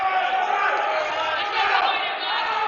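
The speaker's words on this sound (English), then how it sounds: "The crowd is going bananas. It is loud in here." A packed crowd at a powerlifting competition roars loudly and without a break, a dense wall of cheering and shouting voices close by.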